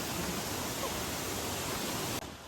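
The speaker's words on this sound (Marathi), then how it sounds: "त्या साईडलाच ही अशी छोटीशी नदी आहे, म्हणजे नदी नाही म्हणू शकत, व्हाळी आहे, व्हाळी." A small stream beside a forest trail up to a hill fort in rainy Konkan country, heard as a steady, dense rush of flowing water, close and uninterrupted.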